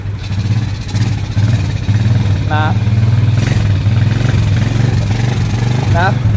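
A Suzuki Smash motorcycle engine idling close by, a steady low, throbbing putter with faint clattering, running continuously while people talk over it.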